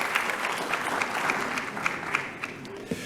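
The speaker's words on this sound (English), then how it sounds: "You can give him a round of applause for sure." An audience at a business networking fair gives a short round of applause, a fairly faint, steady patter of clapping with a few sharper individual claps standing out.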